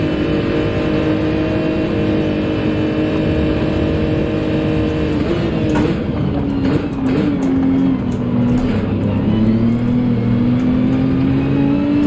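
A Porsche race car's engine in Gran Turismo 7, a loud continuous high-revving drone with shifting pitch, gear changes and rising whine midway, close and steady with no talking.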